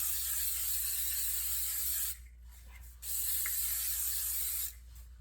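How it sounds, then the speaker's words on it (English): Cooking spray hisses into a baking dish in two long bursts with a short pause between them, close and loud, followed by a brief quiet gap and silence. "we're going to spray the baking dish with cooking spray"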